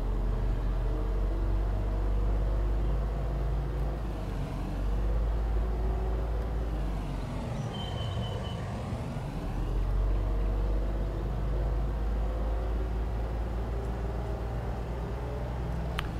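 A farm vehicle in Farming Simulator 19 drives through a small farmyard, its engine a steady low drone that swells and dips as it accelerates and shifts, heard alone with no talk.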